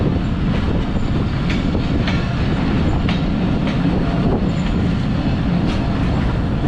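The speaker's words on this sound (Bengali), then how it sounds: "ট্রেন এই মুহূর্তে প্রবেশ করছে শীতলাই রেলওয়ে স্টেশন।" The Dhalarchar Express passenger train rolls into Shitlai railway station, with a loud continuous rumble and rhythmic wheel clacks over rail joints close by, steady throughout.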